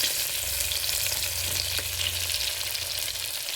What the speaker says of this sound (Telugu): ఒకటే ఈ ఉల్లిపాయ మంచిగా వేగాలన్నమాట.